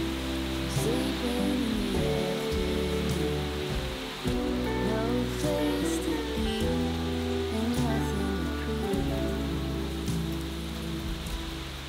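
Steady rain pours down hard and close, a dense continuous patter on surfaces with no break and no voices.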